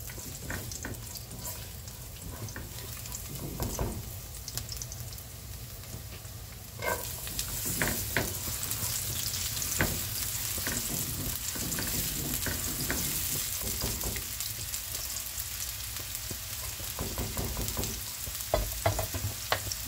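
Oil frying in a hot pan while being stirred, with a steady loud sizzle and intermittent scraping clicks of the utensil throughout, louder in the second half.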